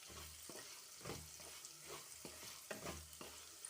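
Salt and chili being stirred into sabudana khichdi in a pan, with soft scraping strokes of a spoon repeating every second or so over a faint background sizzle, close and quiet, with no talk.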